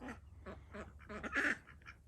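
Several ducks quack close by in a rapid, rhythmic series of nasal calls, getting louder and more overlapping toward the middle before tapering off.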